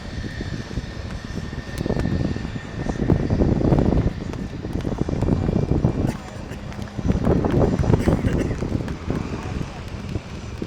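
A loud light combat aircraft engine roars and surges in waves, rising and falling as it performs aerobatic maneuvers at the Aero India 2019 airshow, with a commentator talking over it.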